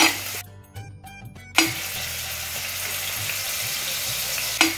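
Cumin seeds and chopped ginger hit hot oil for a Multani mixed vegetable curry, a loud burst of sizzling that settles into a steady close crackling fry, with brief stirring clatters.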